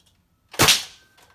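Single sharp pop of a homemade spring-powered Nerf sniper blaster firing, a loud snappy burst with a short trailing hiss, heard alone and fairly close.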